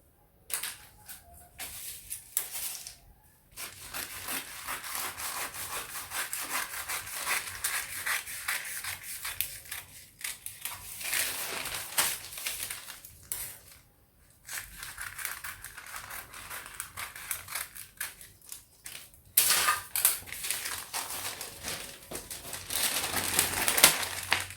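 Scissors cut a paper sewing pattern for a peplum blouse, giving a close, continuous rough snipping and rubbing with short pauses throughout, with no talk.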